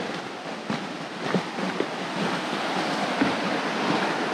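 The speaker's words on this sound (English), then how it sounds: "It's exactly the same sound of the water" Steady broadband rush of a flowing stream in the Lost Valley, Glencoe, Scotland, continuous and fairly loud, with no voices and a few faint knocks over the top.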